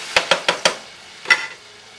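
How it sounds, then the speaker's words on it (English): Fried chicken frying in a home kitchen: a faint, steady sizzle underlies four quick sharp clacks of a utensil, followed by one more knock. "fried chicken frying."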